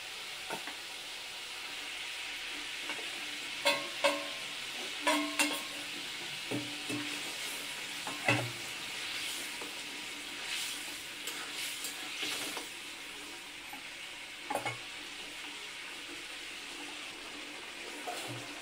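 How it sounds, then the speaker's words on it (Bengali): Fish curry broth bubbles and sizzles in a pan, with fried fish added; soft, steady simmering is broken by several sharper splashes and clinks of utensils, fairly quiet and with no voices. "দেখো বন্ধুরা ঝোল টকবক হয়ে ফুটছে"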